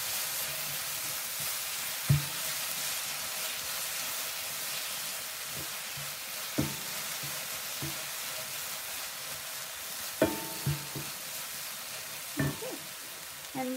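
Mango chutney mixture is stirred in a pan, giving a steady soft sizzling hiss with occasional scraping knocks of the spoon against the pan, faint and without voices.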